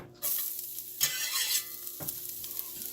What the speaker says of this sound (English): Just going to stir that all up until the garlic starts to brown and start to release some of its flavor.